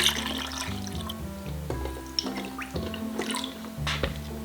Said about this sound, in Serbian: Sipat ćemo vodu, hladnu naravno.